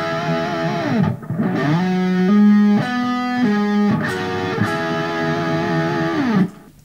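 Distorted electric guitar lick built on double stops and pull-offs, with sustained ringing harmonies that shift pitch in a few steps before fading, played loud and alone.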